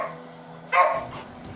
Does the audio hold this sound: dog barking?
yes